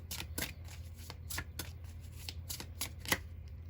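Tarot cards being shuffled by hand, a run of crisp riffling bursts in an uneven rhythm, close and steady, with a low hum underneath and no talking.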